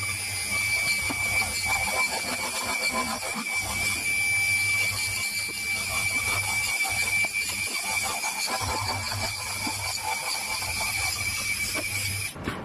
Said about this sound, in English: put the slitting saw through here